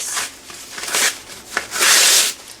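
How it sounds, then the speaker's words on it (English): Paper being torn by hand into strips for papier-mâché Easter eggs. Several close, rasping rips of varying length come through, the last one long and sustained. "I'm just tearing it right from the center into strips."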